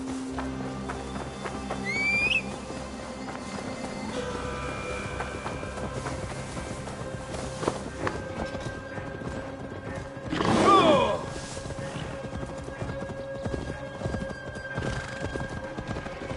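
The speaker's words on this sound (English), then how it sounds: "Now to deliver Magni his horse." Horse from the Assassin's Creed Valhalla video game clip-clops along at a walk with steady hoof steps, then whinnies loudly midway, over a constant game-music bed.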